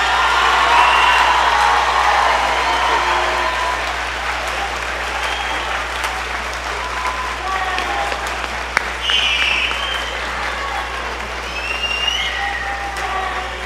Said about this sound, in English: Give them a tremendous round of applause.